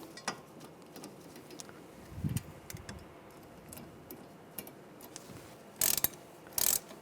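A ratchet tightens the front brake caliper guide pins on a 2006-2009 Mercedes-Benz E350, with faint mechanical clicks and handling noise giving way to two short, sharp ratcheting bursts near the end, close and quiet overall.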